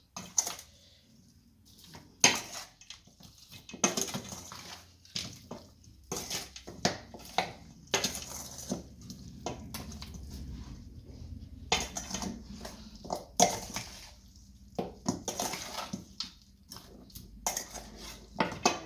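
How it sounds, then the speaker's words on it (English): Seasoned chicken for Jamaican curry gets stirred and mixed in a dish, with irregular clinks, taps and utensil clatter scattered over the whole stretch between quiet gaps. "Make sure I stir it up and everything seasoned"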